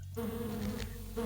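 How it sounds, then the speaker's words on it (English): Insects buzz steadily in a cave in the Lands of Lore video game, a continuous droning hum with no speech. "All this buzzing is very annoying."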